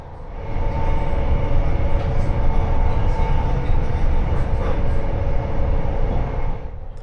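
A high-speed train runs at about 200 km per hour on the HSL South line, a steady loud low rumble with a sustained whine, heard from inside, continuous throughout.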